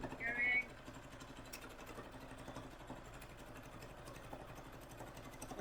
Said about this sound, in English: My sewing machine seems to have developed a little bit of a rattle